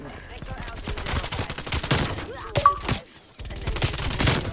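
A Call of Duty: Cold War strafe run scorestreak tears through in rapid bursts of close, dense automatic gunfire with thuds mixed in, briefly cutting out before resuming.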